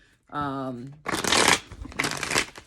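A large 160-card deck being shuffled, with close riffling bursts of cards following a brief spoken voice.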